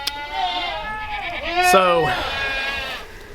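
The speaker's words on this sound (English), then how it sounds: "Got a lot of goats right around me, so you're probably gonna hear all the goats" Several goats bleat close by on a farm, overlapping wavering calls that rise and fall, with someone briefly speaking over them.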